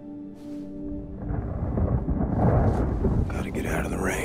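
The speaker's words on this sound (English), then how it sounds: "Gotta get out of the rain." In the first-person shooter Wolfenstein: Youngblood, rain hisses steadily while a deep thunder rumble swells and lingers, a brief voice briefly heard beneath the storm.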